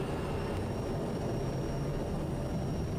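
A TBM850 turboprop at takeoff power on a runway with a left crosswind, giving a steady, loud, broadband engine and propeller roar that holds constant from start to finish with no voices.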